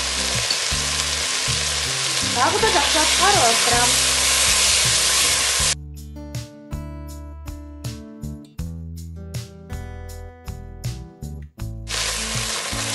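Meat with tomato paste sizzles and crackles loudly in a pan, the frying broken by a stretch of plucked music before the sizzle returns; a voice speaks briefly over it.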